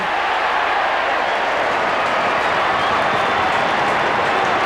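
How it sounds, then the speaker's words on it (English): Football stadium crowd at an AFL match between Carlton and Footscray in 1996, cheering and applauding loudly and steadily, a broad dense roar with clapping that fills the whole stretch without letting up. "Gets the cheers of the crowd"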